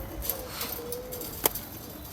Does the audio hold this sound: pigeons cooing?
yes